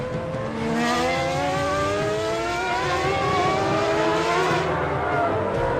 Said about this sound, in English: See Schumacher under braking, closing up